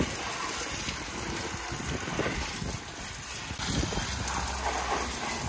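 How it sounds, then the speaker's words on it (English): A water hose sprays hard to wash mud off, a steady gushing hiss with shifting splashes as the stream moves across surfaces, running close and continuous for several seconds. "So we're just hosing it off, trying to get everywhere."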